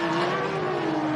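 An Alumacraft race car powered by a 3.5-litre Ford EcoBoost V6 revs during an off-road race. A brief, sustained engine tone with a steady pitch sounds from a moderate distance.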